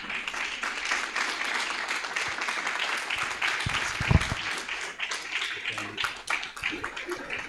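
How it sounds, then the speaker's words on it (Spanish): A church congregation applauds after a sermon, a dense continuous patter of many hands clapping, steady and fairly loud, with a few louder bumps partway through. "Bien fuertes aplausos si es para el Señor"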